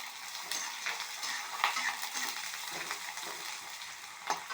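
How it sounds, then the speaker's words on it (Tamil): Sliced onions with a pinch of salt sauté in a pan for a quick kuzhambu, a soft, fairly faint continuous sizzle broken by a few light stirring scrapes. "ஆனியன் வதங்கிட்டு நல்லா வதங்கினா 2 கல் உப்பு 2 சேர்க்குறேன் நான்."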